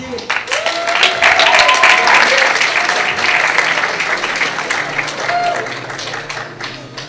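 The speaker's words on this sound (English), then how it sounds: "One more round of applause for each of our contestants" Audience at a male pageant-style contest gives the contestants a loud, sustained round of applause, dense clapping with scattered cheers that swells, then gradually tapers off.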